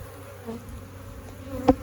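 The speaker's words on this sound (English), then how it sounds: "Drones are male bees that can't sting." Honey bees on comb buzz faintly in a low, continuous hum, with one brief louder buzz near the end.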